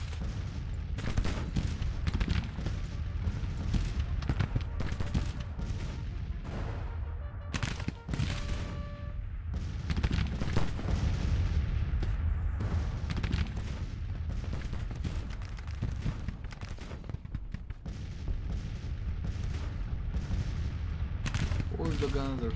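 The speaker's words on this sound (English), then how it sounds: "We'll go for counter battery fire." Civil War artillery and musket fire in the Grand Tactician strategy game, a dense, continuous battle din of overlapping booms and crackling shots, loud throughout, with a voice occasionally talking over it.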